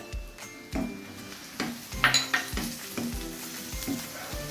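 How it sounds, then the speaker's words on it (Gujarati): Boiled kidney beans tipped into a pan of golden-brown sautéed onion and garlic, sizzling steadily while a spoon scrapes and stirs with repeated knocks against the pan, close and fairly quiet. "હવે આપણે રાજમા નાખીશું।"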